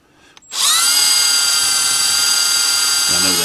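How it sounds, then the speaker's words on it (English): A power drill runs in reverse, driving screws into very soft material during a decoder install. It starts abruptly after a brief pause and holds a loud, steady, high whine close by for about three seconds. "I drill them in reverse to keep it from pulling in."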